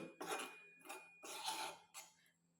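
A spoon stirs hair dye mixed with strong black tea in a bowl, giving a few short clinking, scraping bursts that are close and faint, with pauses between them.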